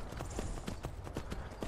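Horse hooves clip-clopping in Skyrim VR, a quick, regular series of about eight close, crisp hoof strikes at a brisk walking pace.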